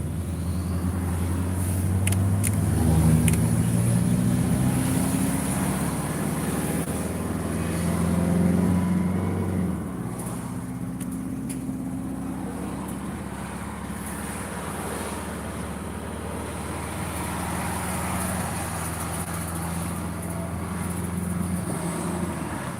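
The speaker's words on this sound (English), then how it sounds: "Daily episodes of Vince driving. It's not just driving, bro." Steady road noise of a car driving, a continuous low rumble with engine and tire hum throughout, fairly loud and unbroken.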